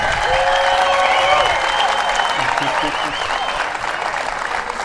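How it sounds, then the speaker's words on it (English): Applause from the audience at a pickleball press conference for two athletes at the U.S. Open, loud and close at first, then easing slightly, with a voice speaking over the clapping. "One more round of applause for these two amazing athletes."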